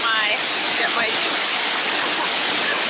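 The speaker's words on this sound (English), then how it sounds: "gonna jump onto the falls now" Rushing water from a waterfall in Jamaica fills the clip with a loud, close, continuous hiss and roar that stays steady throughout, with no voices over it.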